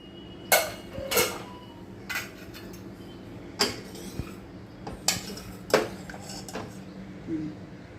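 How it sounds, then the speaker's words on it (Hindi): Metallic clinks and clanks of a pressure cooker lid being handled and fitted, several sharp knocks spread out over a quiet kitchen background. "अभी मैं कुकर का लिड करती हूँ।"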